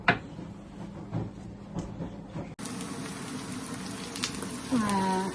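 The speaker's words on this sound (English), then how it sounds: "So I have my onion frying up with my minced garlic and some ginger and a few peppers," A pan sizzling steadily as onion fries with minced garlic, ginger and peppers, with a clatter partway through and a brief high squeak near the end.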